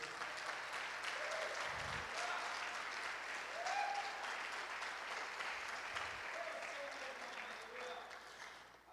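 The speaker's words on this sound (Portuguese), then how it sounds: "Pode aplaudir o Senhor Jesus." A church congregation applauds steadily for several seconds, a dense wash of clapping with faint voices and cheers mixed in, easing slightly toward the end.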